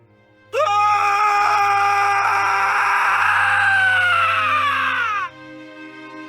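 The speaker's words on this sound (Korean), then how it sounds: "비명이 석실을 가득 채웠다." A person screaming in a stone chamber, one long sustained anguished wail that starts abruptly and cuts off after several seconds, loud and close over a low droning backdrop.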